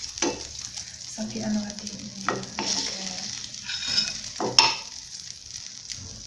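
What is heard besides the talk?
butter melting and sizzling in a pan for apple crumble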